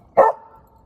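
A dog gives a single sharp, loud bark close by, with a short tonal tail afterward and nothing else in the moment.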